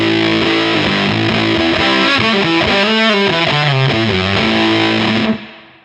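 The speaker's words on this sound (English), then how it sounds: "kind of low gain, kind of crunchy fuzz tones right through to some real kind of soaring, almost boomy tones" An electric guitar played through a JPTR FX Warlow Big Muff-style fuzz pedal, thick sustained distorted chords shifting pitch in a short phrase and ringing out before cutting off abruptly.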